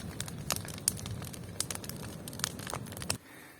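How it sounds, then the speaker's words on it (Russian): A campfire of drying cut grass burns outdoors with dense, close crackling and sharp pops over a low rushing hiss, then cuts off abruptly. "Вот оно там горит."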